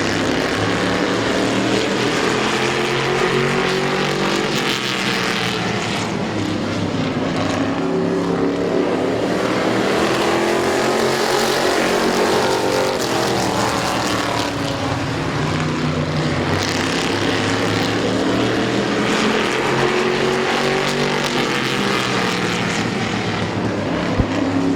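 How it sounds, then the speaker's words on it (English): Race cars in an 8-lap heat race at Midvale Speedway, a steady, loud roar of multiple engines rising and falling as the pack laps the track, with no talk. "Green flag, 8-lap heat race, Keith Anderson."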